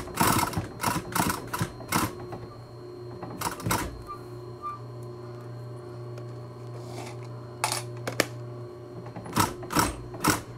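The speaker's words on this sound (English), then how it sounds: "we're going to sew all the way around, all the way, till I get back to this pin here" A sewing machine stitches around the edge of a fabric mask in a close, loud mechanical rattle that runs steadily through the middle, with sharp clunks and pauses at the start and end.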